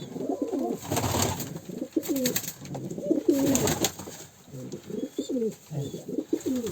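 A domestic Kanat Posta pigeon coos repeatedly in rolling, throaty phrases, close and fairly loud over a steady background hiss in a village setting.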